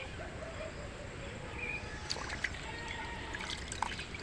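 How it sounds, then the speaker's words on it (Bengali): Rohu fish heads are rinsed one by one in water, a faint, steady trickle and light splashing with a few small clinks near the end. "আমি সব মাথাগুলো এক এক করে ধুয়ে নেব"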